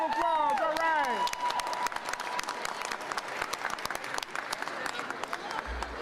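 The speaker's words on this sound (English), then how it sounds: "Give them a round of applause." An elementary school crowd gives the children a round of applause, a brisk burst of many hands clapping with a few cheers, beginning under a voice and continuing steadily as sharp individual claps stand out.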